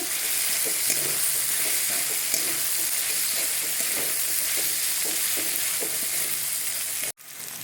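Capsicum and potato fry for veg pulao in a loud, continuous sizzle with faint stirring scrapes underneath, steady and close throughout, dropping out abruptly near the end and then resuming.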